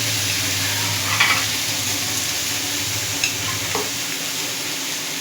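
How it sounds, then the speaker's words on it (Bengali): Radish and amaranth greens sizzle steadily in a pan over medium heat, a continuous close frying hiss broken by a few soft scraping stirs, with no talking. "এবার আমরা আর একটু ভালো করে মিডিয়াম আঁচে দিকে ভাজা ভাজা করে নেব।"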